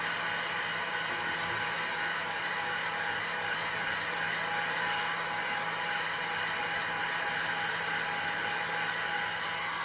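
A hot air rework station blows at 300 Celsius on low airflow over an AMD R9 270 graphics card, a steady, even hiss of rushing air with a faint low hum underneath, holding unchanged throughout.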